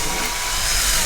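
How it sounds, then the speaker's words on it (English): Power drill boring through drywall, a steady loud broadband whir with grinding texture running continuously as pressure is applied. "Okay, still drilling, and I'm pushing pretty hard."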